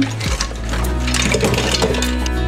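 Water from a pot of cooked mussels pours steadily into a drain in one continuous splashing rush, loud and close, lasting the whole short moment.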